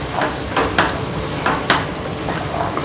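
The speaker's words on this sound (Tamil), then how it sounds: "நல்லா ஒரு 2 நிமிஷம் நம்ம வந்து இதை நல்லா பரட்டி கொடுத்துக்கலாம்" Black chickpea sundal sizzles in a pan on medium heat while a spoon stirs it in several distinct scraping strokes over a low, steady fry, close and without speech.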